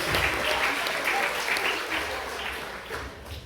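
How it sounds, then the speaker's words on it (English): An audience at a high school senior banquet stage hypnosis show claps in a steady round of applause, a dense continuous patter filling the room and tapering slightly near the end. "So go ahead and give them a round of applause."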